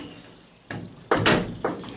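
A Citroën Traction 11B car door being worked and shut, with a few separate metallic clunks and a firm close close by, no talking over it.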